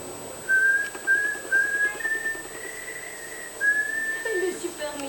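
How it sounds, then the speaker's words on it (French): A man whistles the tune Au clair de la lune through his nose, making a series of clear, sustained breathy notes with short pauses in a quiet room. "Quand il respire, il arrive à siffler au clair de la lune avec son nez."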